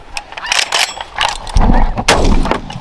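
Shotgun blasts ring out during a snow goose hunt, several sharp loud reports in quick succession with shouting voices around them.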